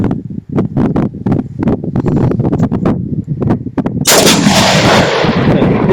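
Doxcarms TK1 tactical shotgun firing outdoors at a test range: a rapid string of loud, sharp reports in close succession, followed by a sustained noisy burst of wind or debris.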